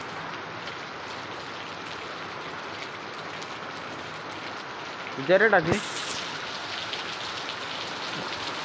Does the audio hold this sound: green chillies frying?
no